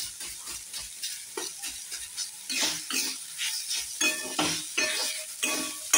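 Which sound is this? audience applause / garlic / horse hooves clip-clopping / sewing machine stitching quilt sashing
garlic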